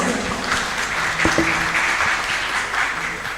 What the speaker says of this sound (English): Please welcome and give applause to Dr. Moh Ridwan